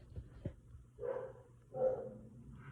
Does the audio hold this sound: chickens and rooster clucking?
no